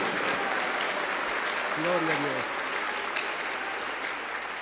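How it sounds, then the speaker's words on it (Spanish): A Pentecostal church congregation applauds a youth choir, a dense continuous wash of clapping throughout with a voice speaking briefly over it. "lo recibimos con aplausos fuertes para Cristo"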